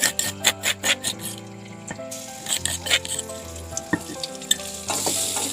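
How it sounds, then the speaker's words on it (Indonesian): Ground spice paste sizzles in a tablespoon of oil in a pan, a loud continuous frying crackle with rhythmic stirring scrapes, while soft music plays underneath. "Kita tumis sampai harum ya teman-teman."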